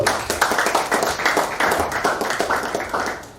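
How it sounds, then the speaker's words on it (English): An audience claps after a lecture, a short burst of rhythmic, moderately loud applause from a modest crowd that thins out toward the end. "I would like us to give him another round of applause"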